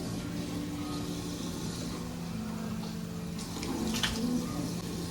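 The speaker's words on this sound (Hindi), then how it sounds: "ठंडा पानी आने वाला है बस" Cold water running steadily from a tap, a constant close splashing hiss with a low hum underneath and no talk.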